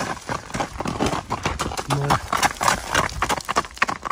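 Hooves of a horse turning in place clop and scuff on the ground in an uneven rhythm, close by, while someone talks over them and a brief whinny-like tone cuts in midway.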